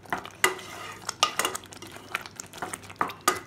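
A meat and green sorrel curry is mixed with spices in a pot, quiet scraping and clinks of a spoon against metal in irregular strokes over a faint sizzle.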